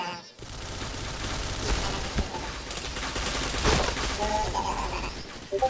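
Rapid bursts of video game gunfire crackle nearly nonstop, loud and dense, with sharp peaks and occasional electronic beeps layered over the shooting.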